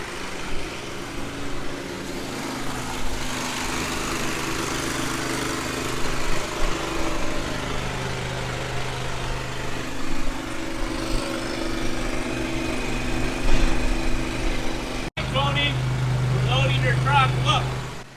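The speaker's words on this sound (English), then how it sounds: "blowing out the conveyor that we're going to load up this Rockford wheat variety with" Air blows out a grain conveyor before Rockford wheat is loaded, making a steady engine-like drone that runs throughout with people talking over it.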